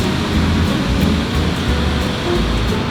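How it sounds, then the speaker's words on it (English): Heavy rain pours down on a Taipei street, a dense steady roar of water heard from shelter beneath a canopy, loud and unbroken with a deep low rumble underneath. "it started raining pretty bad here in Taipei"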